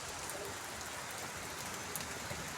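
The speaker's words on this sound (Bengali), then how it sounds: "হালকা বৃষ্টি।" Light drizzling rain falls steadily outside a window, a soft continuous patter with faint scattered drops, quiet and even throughout.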